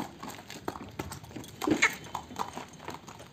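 A horse walking slowly while being mounted for a riding event at Sarangkheda, with soft hoof clops and scattered rustling under faint background voices.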